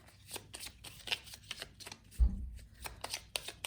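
Tarot cards shuffled by hand in a quick series of crisp riffling flicks and soft slaps, close and fairly quiet, with a brief low thump partway through and no talk.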